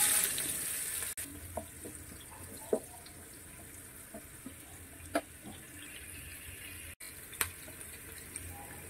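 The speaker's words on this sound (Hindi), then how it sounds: "और प्याज को भी भून लेते हैं, प्याज को हम तब तक भूनेंगे जब तक अच्छे से ब्राउन ना हो जाए" Onions frying in a pan with cumin and garlic give a quiet, steady sizzle, broken now and then by faint clicks and light stirring taps.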